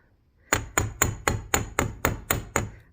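Hammer striking a metal bead frame pendant in nine evenly spaced, sharp ringing blows after a short quiet start, close and crisp with no talking.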